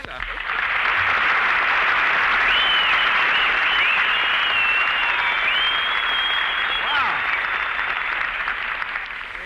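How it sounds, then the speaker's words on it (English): A 1943 radio studio audience applauds for Mary, a loud continuous wall of clapping with whistles gliding over it, lasting nearly ten seconds while someone briefly exclaims. "You got more applause than I did"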